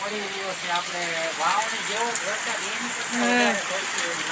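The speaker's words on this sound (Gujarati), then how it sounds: "મિત્રો વરસાદ વરસી રહ્યો છે નરુડે છે ને ધબધબાટી બોલાવે છે" Heavy rain pours steadily in Vavdi village, a dense broadband hiss that lasts throughout while someone talks over it close to the microphone.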